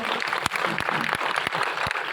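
Audience at a talk in Dungarpur, Rajasthan clapping together, a dense steady wash of applause with a few sharper claps standing out, close and continuous throughout.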